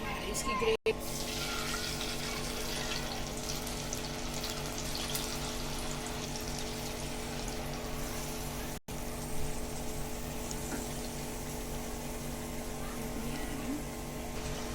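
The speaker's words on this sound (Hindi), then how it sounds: "ये तेल जो हमने कढ़ाई में गर्म किया है, इसमें डाल के इसको हल्का हल्का फ्राई कर लेंगे।" Marinated chicken malai tikka pieces fry in hot oil in a kadai over medium heat, giving a steady, even hiss that runs unbroken for the whole stretch, with two brief dropouts.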